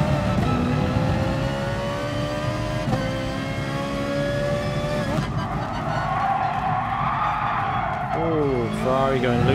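Ferrari losing grip in GT Sport, engine droning steadily under a dense racing-game soundscape, with a sharp tonal squeal of sliding tires and pitch swoops toward the end as the car goes loose; no talk.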